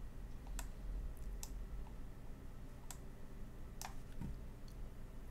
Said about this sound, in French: on va cliquer sur le petit carré crème ici